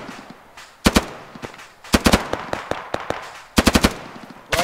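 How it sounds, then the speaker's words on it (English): Machine-gun suppressing fire in a military video game, fired through trees toward a distant horizon: several sharp bursts of rapid shots, loud and close, separated by short pauses with fainter scattered shots in between. "We're getting shot at through the trees."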